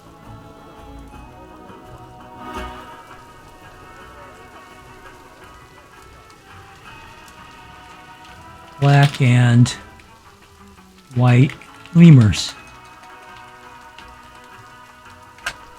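Rain patters softly and steadily in the Planet Zoo video game, a faint, even ticking of drops throughout, broken by a few short bursts of someone talking.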